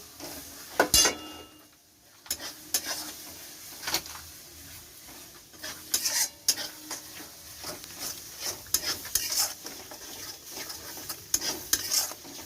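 Mutton curry with paste spices sautéed in a pan, a spoon scraping and clinking repeatedly against the metal amid a soft sizzle, close and steady over several seconds.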